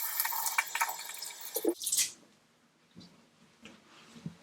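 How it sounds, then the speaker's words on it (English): Hands washed under a running tap at a sink before a night skincare routine: splashing water for about two seconds, then scattered drips and small wet sounds, up close. "So I'm starting with washing my hands."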